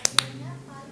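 Two sharp, close hand claps in quick succession, bright and snappy, followed by a short stretch of quiet room noise.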